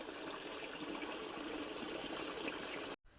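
Irrigation water runs steadily through a wheat field on a solar-pumped farm, a continuous broadband rushing and trickling that stays even and close throughout, then cuts out abruptly for a moment near the end.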